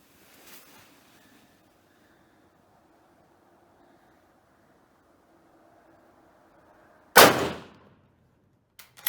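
A single loud rifle shot from a Czechoslovakian Vz.24 Mauser cracks outdoors, followed by a brief echo tail and a faint trailing knock, after a long stretch of quiet with a soft voice early on.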